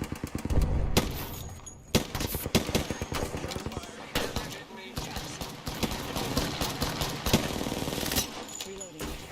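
Rapid automatic gunfire in Apex Legends, dense continuous bursts of close, loud shots with brief pauses, under in-game character callouts.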